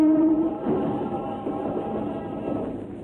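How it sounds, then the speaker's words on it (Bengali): A train approaching in a film scene, a low steady rumble with a faint tonal whine rising briefly at the start, moderately close and continuous throughout the short span with no speech. "ওই যে তোমার ট্রেন আসছে।"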